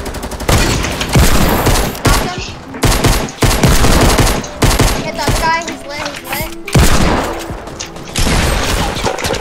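Heavy automatic gunfire and rattling bursts fill a loud, chaotic battle in Call of Duty WWII, with brief lulls between volleys and a voice talking during the shooting.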